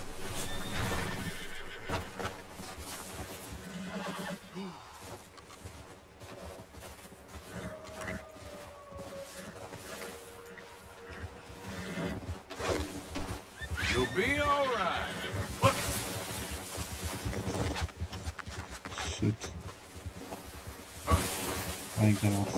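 Horse whinnying in Red Dead Redemption 2 as it climbs a mountain near a horse camp, heard amid game music and ambience, with a person talking over it.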